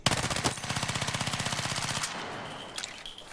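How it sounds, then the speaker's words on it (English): An SMG in Battlefield 6 fires full auto at a firing range, a fast steady burst of rapid shots lasting about two seconds, then the echo trails off with a few faint clicks afterward. "If I just fire full auto, I put my aim on the body here, aim down sight, no recoil compensation here, this is what it looks like."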